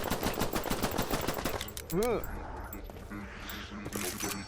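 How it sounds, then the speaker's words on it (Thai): Rapid machine gun fire in a Skibidi Toilet shooting game rattles loudly for about two seconds, then gives way to a rising electronic tone and softer game sounds, with a voice talking over it. "ว้ายปืนอะไรเนี่ย อุ้ยปืนกลว้าวแจ่มเลย"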